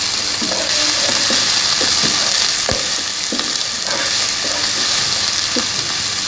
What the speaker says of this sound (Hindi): अदरक लहसुन पेस्ट को हम सौटे करेंगे।